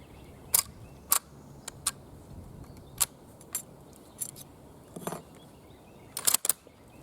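Metallic clicks and clacks of a stripper clip being handled and loaded into a Finnish M39 Mosin Nagant bolt-action rifle, a dozen or so sharp separate snaps spread irregularly over several seconds, with a tight cluster near the end.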